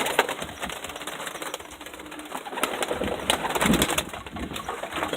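A homing pigeon handled before release flutters and shifts in the hands. Close, busy rustling and soft wing movement run throughout with a few sharp taps, fairly loud.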